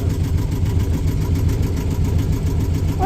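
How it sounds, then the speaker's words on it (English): A Yanmar inboard engine on a sailboat idles steadily just after its first start-up, a loud, even low-pitched diesel chug running throughout with no speech. "starting the engine, and let's just let it warm up nicely"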